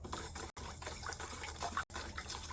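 Water poured steadily into a pot for a burdock-root kimchi brine, a continuous close splashing gush with two brief breaks, no talking.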